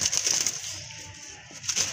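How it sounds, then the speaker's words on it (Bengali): A breeding pair of crested pigeons, male and female, gives soft, low cooing close by against a steady rustling hiss, with no voices. "খুবই সুন্দর এক জোড়া কবুতর"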